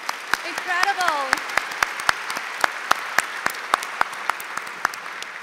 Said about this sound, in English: Beautiful round of applause.